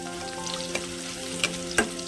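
Chopped garlic fries in hot oil with turmeric for an ivy gourd tempering, giving a steady close sizzle with a couple of sharp stirring clicks.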